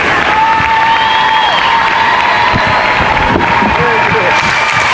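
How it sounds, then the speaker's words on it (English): A crowd in a high school gym at a varsity basketball senior night applauds and cheers loudly for the seniors, with shouts and whistles over continuous clapping. "please join us in a round of applause for all of our seniors"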